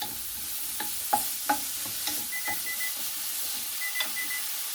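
Meatballs fry with a steady loud sizzle while utensils clack against the pan, and a kitchen timer sounds a few short high beeps in two brief bursts over the frying, with no talk.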